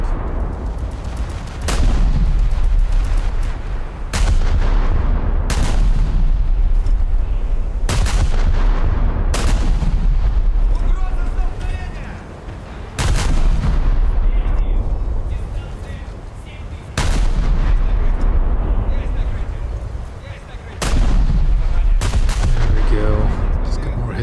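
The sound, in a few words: anti-aircraft guns firing on Pr.68 cruiser in naval video game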